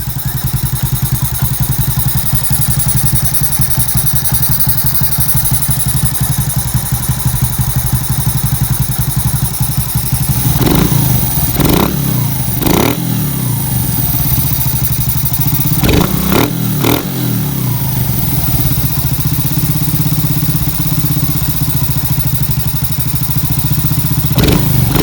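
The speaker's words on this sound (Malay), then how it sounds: "sekarang aku saja nak test enjin aku ni" A Yamaha Lagenda 115 Fi motorcycle with a Rapido air filter runs steadily at idle, a close, loud, even engine drone with a few brief throttle blips and clattery thumps partway through.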